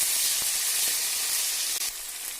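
Ginger garlic paste frying with onions in a pan, a steady bright sizzle with a few soft stirring scrapes, close and continuous with no talking.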